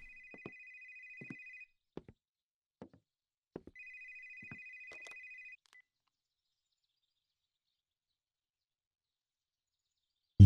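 A phone rings with an incoming call in a house in the woods: two long electronic ring bursts separated by a pause, mixed with scattered faint clicks and taps, then silence and a sudden loud thump at the very end.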